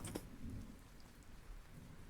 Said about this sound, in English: the storm sound is just included.